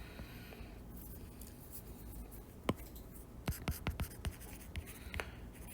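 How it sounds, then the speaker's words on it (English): Pen on paper during an economics lecture, writing out an average revenue formula: faint, close scratching strokes with a few sharper taps toward the end, over a quiet room. "Okay, so I will write down here."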